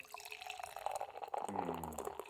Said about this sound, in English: Do love the sound of a pouring beer.